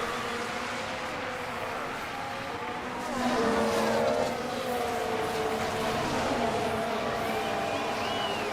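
Formula 1 race cars in the F1 Manager 2023 video game during a race in Melbourne, engines whining steadily with a pitch sweep as cars pass, constant and moderately loud.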